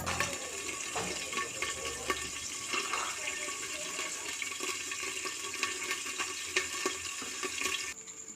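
Corn kernels sizzle in hot coconut oil in a pot while popcorn is being made, giving a steady, fairly loud broadband hiss with faint crackles throughout and no talking.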